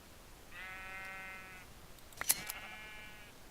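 Sheep bleating in the Minecraft video game: two moderately faint, drawn-out bleats separated by a short gap, with a few sharp clicks between them.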